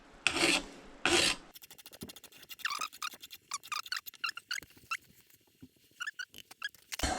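Hand file rasping the sharp edge off a freshly cut Fox Factory fork steerer tube: two loud opening strokes, then a run of short, quick scraping strokes, close up and with no speech.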